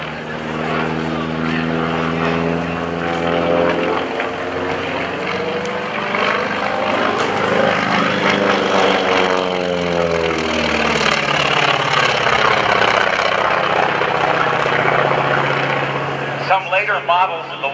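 A Grumman FM-2 Wildcat propeller fighter performs at the 2015 NAS Oceana airshow, its round engine giving a loud, sustained, throaty drone that swells and shifts in pitch as the plane passes.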